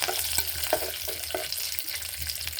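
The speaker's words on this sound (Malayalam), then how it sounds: "നമ്മൾ കടുക് നമ്മൾ നന്നായിട്ട് പൊട്ടുന്നുണ്ട്" Mustard seeds with urad dal crackle and pop in hot oil as a tempering for jackfruit thoran, a close steady sizzle broken by a few sharp pops, with no speech.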